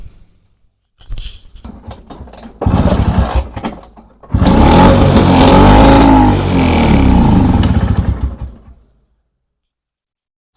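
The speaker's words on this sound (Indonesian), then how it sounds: "Sempat nyala bunyi, tapi tiba-tiba dia ngempos lagi ya." A Vespa scooter engine is started, sputters and catches with a loud, rough running roar for several seconds, then cuts out into silence. Some clunks and short bursts come before it, all close to the listener.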